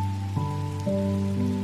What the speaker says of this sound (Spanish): Es una lluvia muy esperada, porque ha hecho un día muy caluroso